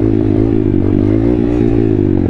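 Pit bike engine revving hard during wheelies with no rear brake, a loud continuous buzzing drone with wavering pitch, close and alone.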